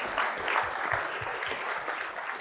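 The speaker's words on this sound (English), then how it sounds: "Everyone, give Setter a round of applause, please." An audience at a business summit gives a volunteer called up on stage a round of applause, a dense wash of clapping from many hands, fairly close and steady throughout with no voices.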